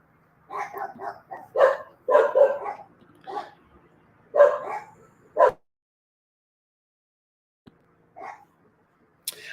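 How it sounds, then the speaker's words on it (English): Several dogs bark outdoors in quick clustered bursts, fairly close, then fall quiet, with a couple of faint, isolated barks near the end. "they want to sit outside and bark. So we'll let them bark."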